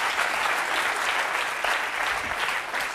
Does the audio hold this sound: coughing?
no